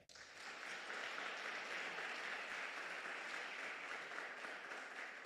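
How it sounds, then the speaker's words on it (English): A youth weekend audience in the Northern Cape gives itself a big round of applause, a steady, even wash of many hands clapping that swells in quickly and holds at a faint, distant level. "You need to give yourselves a big hand clap"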